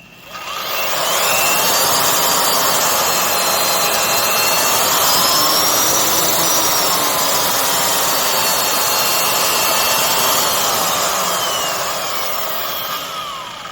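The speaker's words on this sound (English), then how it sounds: "the bearings are rattling around" A loud, steady high-pitched whine from a Craftsman (Skil) router with worn, rattling bearings, gritty and rough, running continuously for the whole stretch.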